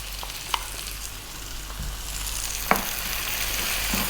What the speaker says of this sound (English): for about 4 or 5 minutes now, we're going to fry the spinach